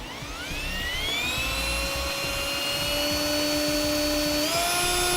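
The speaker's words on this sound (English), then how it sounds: "And we're going to drill a pilot hole." A power drill bores a pilot hole into a pickup truck bed while fitting a Demco Autoslide 5th wheel hitch with slider, its steady whine rising in pitch as the motor spins up, close and loud, with no talk.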